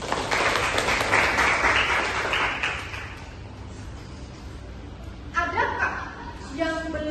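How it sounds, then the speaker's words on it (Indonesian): A classroom bursts into applause for a few seconds, dense clapping that fades, followed by a teacher's voice speaking and some light laughter. "beri tepuk tangan."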